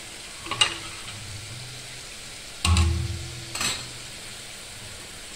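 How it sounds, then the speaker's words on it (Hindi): A paste of yogurt and gram flour goes into a kadhai on a low flame, giving a gentle sizzle broken by a couple of louder bursts and light clinks of a utensil. "ये देखिए मैंने डाल दिया है पेस्ट कढ़ाई में"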